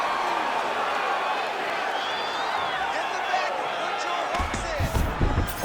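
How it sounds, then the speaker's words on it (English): An arena crowd in the UFC 5 video game roars steadily in appreciation during a CPU vs CPU bout between Dricus Du Plessis and Magomed Ankalaev, loud and sustained, with thuds and a commentator's voice near the end. "the crowd pops in appreciation as the fighters work their way back to the feet"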